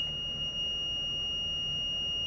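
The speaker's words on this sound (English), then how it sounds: "there's the park brake seatbelt alarm you may have heard before" A bus park brake seatbelt alarm sounds a steady, high-pitched electronic tone continuously and unbroken, loud and close, with a low mechanical hum beneath it.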